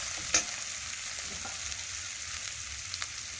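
Spices with Kashmiri chilli, turmeric, ginger and cumin cook in oil in a pan, giving a soft continuous sizzle with a sharp utensil clink near the start and faint stirring scrapes.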